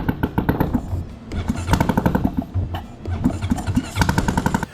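A Honda Rancher 420 ATV engine, left sitting for ten years, runs on ether with a loud, rapid, uneven chugging of firing pulses that pauses briefly and then picks up again.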